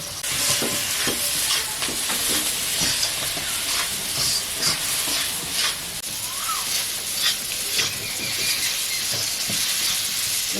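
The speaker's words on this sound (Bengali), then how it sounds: "নুন দিয়ে ভালো করে আলুটাকে কষে নেব।" Boiled potatoes with salt and turmeric sizzle loudly in a pan, a dense continuous frying hiss broken by frequent scraping stirs and clatters throughout.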